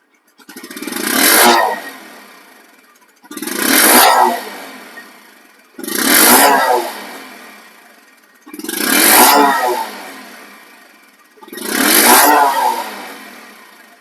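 A Bajaj Discover 125cc motorcycle engine revs five times in an even rhythm, each burst rising sharply then falling back to a low idle.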